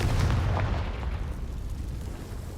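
Confringo fire spell blasting in Hogwarts Legacy, a single loud booming explosion that hits at once and trails off into a rumbling decay.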